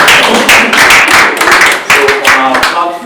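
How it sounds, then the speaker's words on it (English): Group of people clapping at a team retreat presentation, dense scattered claps over about three seconds with voices and some talk mixed in underneath. "the guys need to clap now"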